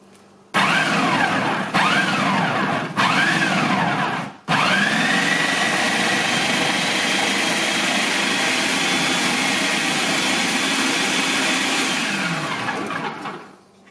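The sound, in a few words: machine shredding vegetable pieces for homemade coleslaw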